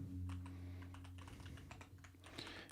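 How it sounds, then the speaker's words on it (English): Rapid, irregular typing on a computer keyboard while entering login details, close and fairly quiet with a low steady hum underneath. "And I write my username"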